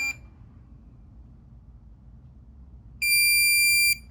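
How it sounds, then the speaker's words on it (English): A Minelab Profind 35 pinpointer beeps as its sensitivity is adjusted: a short electronic chirp, a quiet pause, then a sustained solid tone lasting about a second, close and clear. "If you want to turn it down, it'll beep"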